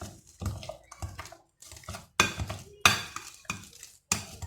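Mashed potato purée with butter and egg worked by hand in a bowl, a series of short wet squelching and scraping strokes with brief silent gaps between them, close and fairly quiet.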